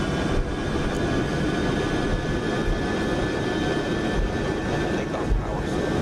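Simulated airliner jet engines at takeoff power in Microsoft Flight Simulator 2024, a loud, steady broadband roar that holds continuously throughout with no pauses.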